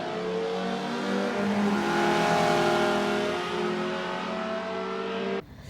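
A Volvo 850R's engine revving, a smooth sustained rise and hold of engine tone, loud and close, then cutting off abruptly near the end.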